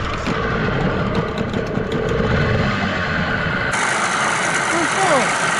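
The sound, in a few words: vehicle engine idling and revving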